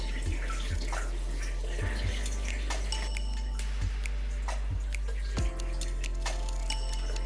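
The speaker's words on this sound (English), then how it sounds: "I'm simply transferring the hop spider into a jug and letting it drain out into the jug" Wort drips and trickles from a hop spider into a jug during homebrewing, with soft irregular splashes and knocks close by, under a steady low hum.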